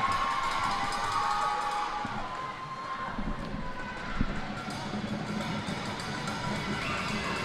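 Steady crowd noise in an arena during a free throw at an NBL1 women's basketball game, Launceston Tornadoes against Southern Sabres, with a continuous roar of voices, a few whoops and a brief louder burst near the middle.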